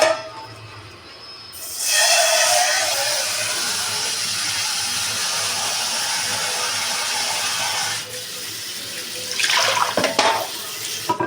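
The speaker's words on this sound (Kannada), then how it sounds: "ಇದಕ್ಕೆ ನಾವು ನೀರು ಹಾಕ್ಕೊಳ್ಳೋಣ, ಸ್ವಲ್ಪ ನೀರು ಹಾಕ್ಕೊಳ್ಳೋಣ" Water pours steadily into a pot of drumstick sambar, a loud continuous gushing that runs for several seconds, stops, then resumes in rougher splashes; no one speaks.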